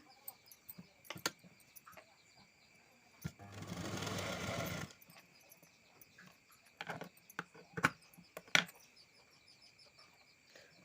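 A sewing machine stitches a lining blouse in one steady burst of rapid whirring lasting about a second and a half. Scattered clicks and handling knocks come before and after in an otherwise quiet room.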